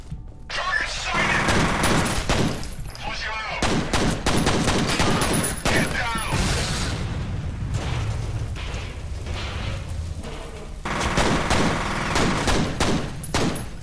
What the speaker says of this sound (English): They just started shooting.